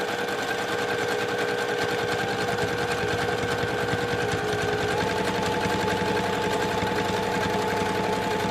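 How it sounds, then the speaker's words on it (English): A sewing machine runs steadily, stitching clear vinyl onto the top edge of a project bag. The needle's rapid, even mechanical rhythm is close and continuous throughout, with no talking. "I'm going to just stitch this to secure it to the top edge of this here."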